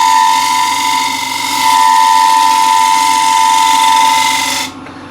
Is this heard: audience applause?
no